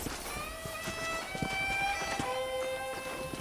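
Horse hooves in the Red Dead Redemption western game on a ride toward a ranch, a rhythmic clip-clop of moderate loudness running under sustained musical tones.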